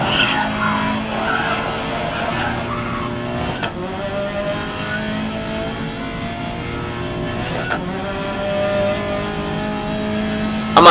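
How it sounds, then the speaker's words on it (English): Racing car tires squeal and skid in the video game GRID (2019), long screeching slides over a steady engine drone, loud and close. "A lot of tire squeal in this car."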